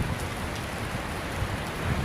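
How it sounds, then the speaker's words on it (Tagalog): Steady, dense rain hiss with a low rumbling texture, continuous and fairly close, no voices. "Malakas ng ulan."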